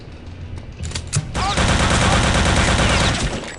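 Sustained gunfire in the shooter game Return to Castle Wolfenstein: a few sharp single shots, then a dense, continuous volley of rapid automatic fire lasting several seconds, loud and close.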